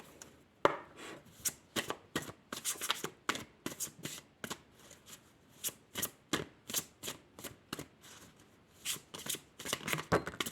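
Oracle cards are shuffled by hand in quick, irregular bursts of crisp riffling and slapping, close and fairly quiet, with no talking.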